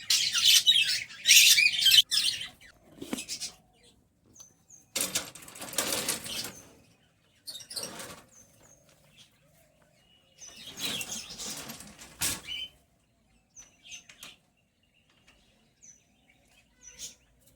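Pet birds on a rooftop, with bursts of wing flapping and scuffling alongside high, thin chirps scattered between quiet gaps, close and moderately loud.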